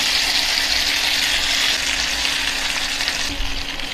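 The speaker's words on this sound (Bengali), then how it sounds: "এখন তেল গরম হয়ে গিয়েছে, আমি এখন বিফগুলো একে একে তেলের মধ্যে ছেড়ে দিচ্ছি।" Beef pieces dropped one by one into hot oil and frying for crisp fried beef chaap, giving a loud, close, continuous sizzle and hiss with slight surges and no voices.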